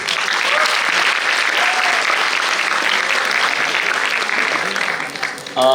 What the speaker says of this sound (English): thank a big round of applause for you guys for being such a nice audience